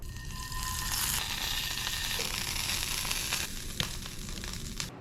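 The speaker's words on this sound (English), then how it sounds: "I am gonna grill a piece right now so we can really put the brine to the test" A strip of brined wild duck grills in a hot pan, giving a steady close sizzle with a few brief clicks and scrapes near the end.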